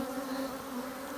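Honey bees buzz in front of a wooden beehive, a dense, continuous drone from many insects, steady and fairly close, with no voices over it.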